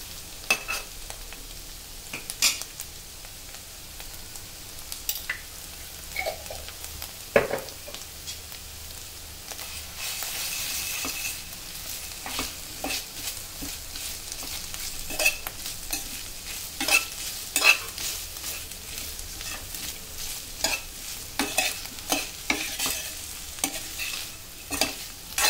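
Cauliflower stir-fried with turmeric and ginger garlic paste in a pan: a steady close sizzle broken by repeated scraping and tapping strokes of a spatula over about twenty-five seconds, with no talking.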